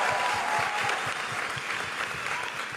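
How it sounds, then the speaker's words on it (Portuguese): A church youth congregation applauds steadily, dense continuous clapping from a crowd that fills the room at an even level throughout. "Aplaude esse Deus grande."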